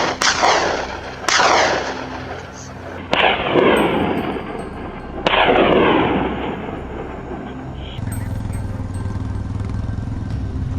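Rifle shots ring out during a wild boar hunt in dry grassland, four loud, sharp cracks spaced a couple of seconds apart, each trailing off in a long rolling echo, with a steady low engine-like drone underneath.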